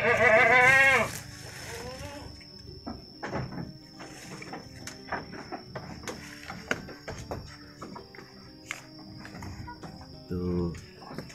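Long-haired Boer goats kept for sale bleat once loudly up close. Scattered rustling, knocks and faint farmyard activity follow, with an insect buzz running steadily in the background.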